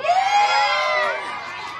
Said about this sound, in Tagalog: Sumigaw ang naniniwalang gwapo si kuya.